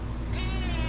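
A black cat meows close by in a short, rising call, heard alone without any talk.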